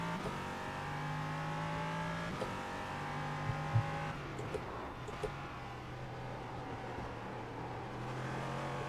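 An LMP3 race car in iRacing lapping a track, its engine a steady, sustained drone with shifting pitch as it accelerates and changes gear, a few brief clicks, no talk.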